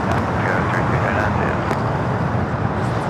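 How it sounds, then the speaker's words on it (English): A heavy jet arriving at LAX on the south side, a broad continuous roar of engine and rushing air heard from outside, loud and steady, with a voice talking over it. "We do have another heavy arrival here on the south side coming up."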